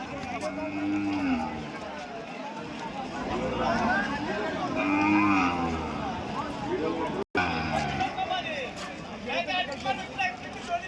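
Calves low and moo amid a noisy crowd at a Sunday cattle market in Kodad, with people talking over the animals throughout.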